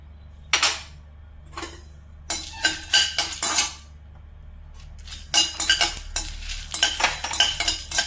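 Cumin and fennel seeds are dry-roasted in a pan and stirred in short bursts, giving sharp scraping and metallic clinks of a spatula against the pan, with brief quiet pauses between the strokes.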